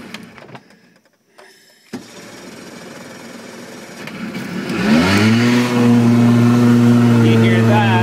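A Boston Whaler boat engine is started with the key: after some clicks and talk, the motor catches and rises into a loud, steady idle with a strong low hum, as someone speaks over it.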